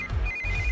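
A phone rings with a steady electronic ringtone, a repeating high tone over a low background rumble, close and clear.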